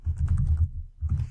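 Quick typing on a computer keyboard: a close run of soft key clicks and taps, a short pause, then a few more keystrokes, with no talk.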